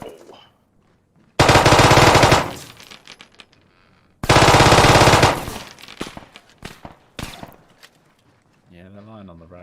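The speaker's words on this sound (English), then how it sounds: "Right, they're shooting at me." Two long bursts of rapid automatic machine gun fire from the ARMA 3 video game, loud and close, separated by a short pause, followed by scattered lighter shots and a voice near the end.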